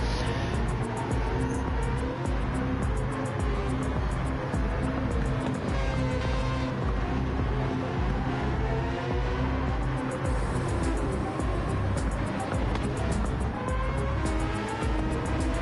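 Engines from Gran Turismo race cars, including a small Mazda, rev hard in a continuous, loud, steady roar with rapid gear-change pulses throughout.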